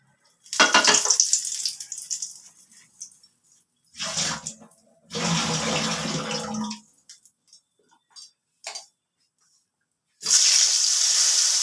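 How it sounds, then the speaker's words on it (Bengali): Potato pieces frying in hot oil in a pan for Bengali shol fish kalia, heard as several separate loud sizzling bursts with short silent gaps between them and a final strong burst. "শোল মাছের কালিয়া রান্না করবার জন্য এবার আমি আলু ভাজবো"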